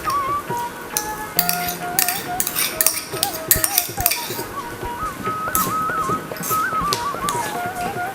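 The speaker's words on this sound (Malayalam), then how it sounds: "ഈ 100 പച്ചമുളക് നമുക്ക് ആദ്യം വഴറ്റാം." Metal spoon clinking and scraping in a pan while 100 g of green chillies are sautéed, with irregular close clatter and faint sizzle under a steady background hum.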